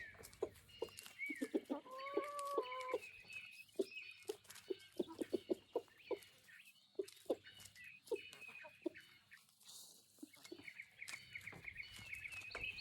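Several chickens cluck and murmur close by while eating cabbage leaves, a busy run of short calls with a few louder, drawn-out squawks mixed in.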